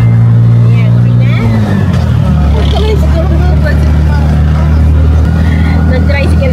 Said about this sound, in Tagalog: Nag-tricycle kami kasi hindi kami kasya sa sakyan.